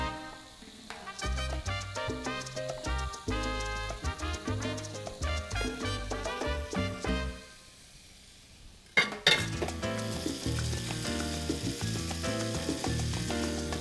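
Cold cuts and bacon sizzle loudly on a discada, a steady close frying hiss with metallic clinks and scraping of a utensil on the disc, a brief lull, then a louder sizzle burst as more food hits the hot metal.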